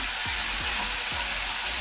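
Vegetables sauté in hot oil in a pan with curry leaves and green chilli paste, giving a steady, soft, close sizzle with a few faint clinks, and no voices.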